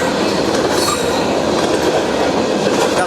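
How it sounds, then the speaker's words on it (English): An empty coal train rolls past heading north near Pembroke and Hopkinsville, Kentucky, its cars rumbling loud and close with rhythmic wheel clatter and metallic squeal, no voices. "on the empty coal train coming north"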